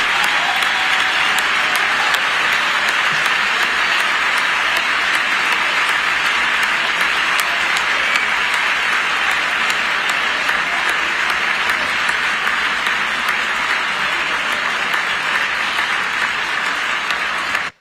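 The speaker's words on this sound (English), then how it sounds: "nobody on the left is standing up and clapping" Sustained, loud applause fills a joint session of Congress during a presidential address, a dense and steady wall of clapping from a large crowd that continues without pause for the whole stretch.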